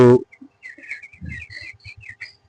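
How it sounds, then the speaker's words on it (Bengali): Chirping calls from a small flock of quail kept on a backyard poultry farm, a run of short repeated high notes close by after a brief low thump at the start. "মাঝে মাঝে দশ বারোটা কোয়েল পাখিও আছে"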